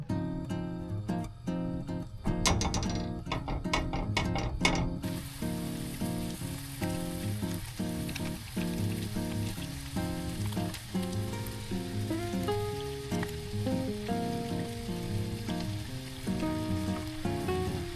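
Mapo tofu made from a mapo tofu mix sizzles in a pan, a soft steady frying crackle heard alongside other kitchen sounds and a layer of background music.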